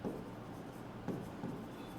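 Marker or chalk scratching numbers onto a board during a maths lesson, steady soft rubbing strokes with a few firmer taps, close and alone with no talk.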